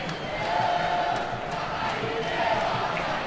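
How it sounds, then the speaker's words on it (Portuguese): Avaí supporters singing the club anthem in a football stadium, a broad, distant crowd chorus with a faint sustained melody swelling under the general roar of the stands. "Torcida do Avaí canta o hino do clube"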